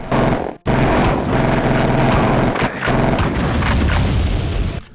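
Shotgun fire in the 1996 DOS shooter SkyNet, heavy booming blasts that fill the clip almost continuously, loud and close, with only a short break near the start.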